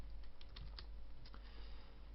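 Quiet, close keystrokes on a computer keyboard entering numeric values in Lightroom, a short irregular burst of light taps over a low steady hum.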